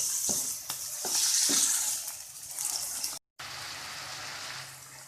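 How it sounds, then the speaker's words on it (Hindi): Steady loud sizzle of chicken pieces for malai boti frying in hot oil, with a few clanks of stirring near the start and a brief cut partway through. "इसे फ्राई करेंगे जब तक इसका कलर चेंज नहीं हो जाता।"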